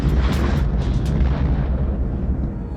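A junk car blows up in a real practical-effects explosion on the Mad Max film set, a loud, deep booming blast that rolls on and slowly fades over a few seconds.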